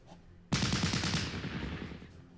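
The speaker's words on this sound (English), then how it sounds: "So we're going to fire the HE Lewis gun at these Germans." A World War I Lewis gun fires a sudden burst of rapid automatic shots in a war video game, loud and close, with the rattle trailing into a reverberant decay.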